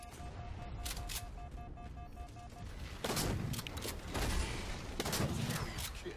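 Turret gunfire in the shooter game Halo 4 multiplayer, a muffled, fairly faint rattle of rapid shots with a few sharper bursts over busy background game noise.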